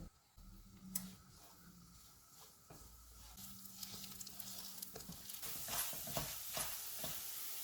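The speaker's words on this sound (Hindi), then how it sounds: "घी मेल्ट हो गया है। इसमें आधा कप कटी हुई खजूरें डालेंगे। इनको नरम होने तक भूनेंगे।" Chopped dates roast in melted ghee over a low to medium flame, giving a soft sizzle with spoon stirring and scraping, faint and close, growing a little busier toward the end.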